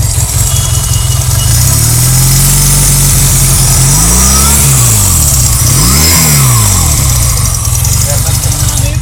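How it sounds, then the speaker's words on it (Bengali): A Honda CD200 Road Master motorcycle engine idles loud and close, then revs up and down in two rising-and-falling sweeps before settling back to a throbbing idle, with a voice talking over it. "বলতেছে ইঞ্জিনের সাউন্ডটা নিতে"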